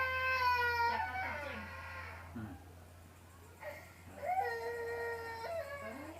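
A cat meows several times in drawn-out, wavering cries, close and fairly loud, spaced over a few seconds above a low steady hum indoors, with faint background talk.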